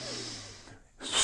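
A breath drawn in during a resistance band arm workout, a short airy inhale with a brief snort-like onset, close and fairly quiet, with no talk over it.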